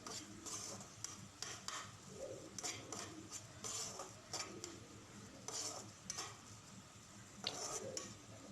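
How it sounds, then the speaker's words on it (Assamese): Ground cumin, Kashmiri chilli powder and turmeric are dry-fried in a pan for an Assamese fish curry with mustard, as a spoon scrapes and clinks in steady, quiet strokes over a faint sizzle. "এতিয়া শুকান মছলাখিনি ভালদৰে ভাজি ল'ম।"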